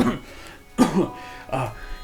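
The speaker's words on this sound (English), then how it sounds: "As you give a healing potion to Xantog, he coughs" A single short cough, close and fairly loud, followed by another throat sound after a brief pause, with a voice-like quality throughout.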